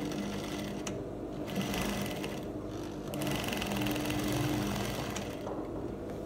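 A sewing machine stitches down the pocket of a palazzo jumpsuit, giving a steady, continuous mechanical whir across the whole stretch with slight surges in speed and no talking.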